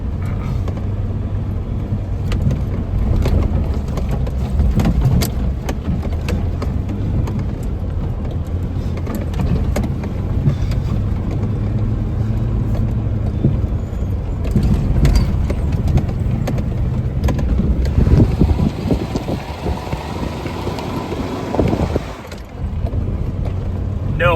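A Pajero Mini's small engine drones steadily while driving up a trail in 4 low, a continuous close rumble with knocks and rattles over rough ground throughout.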